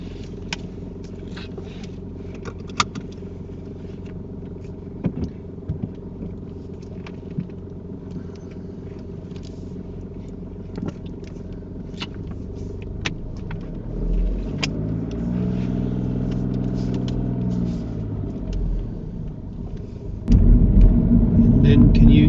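A car on a road during a UK driving lesson, its engine rumbling steadily with one pass of passing traffic midway and a louder surge near the end, while people talk inside.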